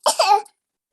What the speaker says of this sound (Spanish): está haciendo que está tosiendo